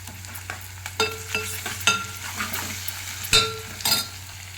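Ginger garlic paste sizzles quietly in a pan on the stove, a soft steady fry broken by several sharp clicks and scrapes of a spoon stirring against the metal.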